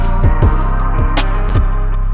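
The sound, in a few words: Omnisphere Age Nouveau Bells preset without effects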